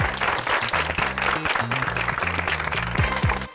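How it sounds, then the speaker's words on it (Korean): Applause from a school debate audience, a dense burst of clapping with shouts and cheers mixed in, loud and close throughout. "박수"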